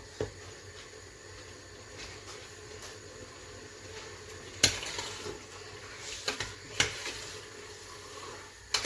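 Food being stirred in a pan, a soft continuous scraping with faint sizzle, punctuated by a few sharper clinks of utensil against the pan near the middle and end.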